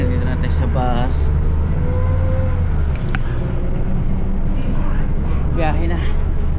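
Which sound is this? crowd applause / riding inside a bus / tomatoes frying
riding inside a bus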